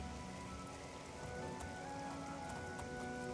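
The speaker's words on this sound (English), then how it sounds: "It sounds like it's raining" Steady, even rain ambience fills the scene in the video game The Elder Scrolls IV: Oblivion. It is a continuous hiss of falling drops with faint tonal chirps mixed in, and no one talks.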